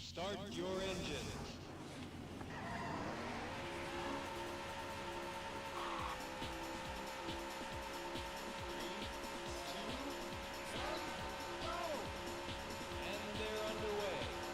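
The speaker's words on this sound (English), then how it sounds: "Gentlemen, start your engine." Racing car engines roar at the start of a race in the arcade game Daytona USA, with a steady layered engine drone and tire squeals running throughout as the pack pulls away, while a voice talks over it.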